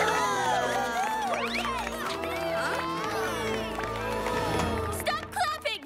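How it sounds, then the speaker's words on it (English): A cartoon crowd claps and cheers in a PJ Masks animated episode, with a busy jumble of voices shouting and hooting over scattered clapping, and a character speaking near the end. "Stop clapping!"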